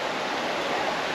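Deep Creek flows past a Smoky Mountain campground near Bryson City, North Carolina, a dense, steady rushing of stream water heard close and alone.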